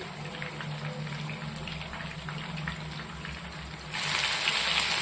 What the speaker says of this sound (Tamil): மசாலா தடவுல மீன்களை எண்ணெயில் சேர்த்து ஒரு மூணு நிமிஷத்துக்கு ஒரு பக்கம் நல்லா பொரிய விட்டுருவோம்